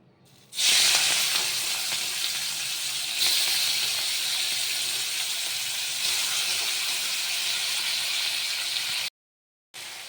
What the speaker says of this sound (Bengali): ওই তেলের মধ্যে এবার আমি চিংড়িগুলো ভেজে নেব